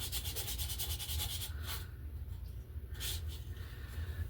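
A glossy surface being scuffed by hand, quiet rhythmic rubbing strokes at first, then slower, fainter scraping passes over a low background hum, close and soft, without speech.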